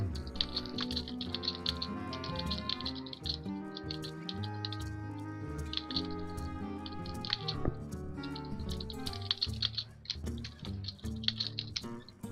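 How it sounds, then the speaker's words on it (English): Rapid clicking keystrokes on a computer keyboard come in bursts and short pauses, close and crisp over game music. "I'm typing up something"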